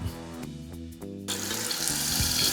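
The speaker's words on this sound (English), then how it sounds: "We got water in the toilet." Water starts running into a newly installed toilet in a barn converted into a bathroom. A sudden steady rush of water begins partway through and continues strongly to the end, with no talking.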